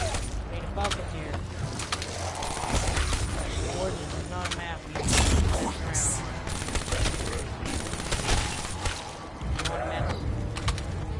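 Rapid bursts of automatic gunfire in a zombies video game, loud and nearly continuous, mixed with game effects and players talking over the shooting.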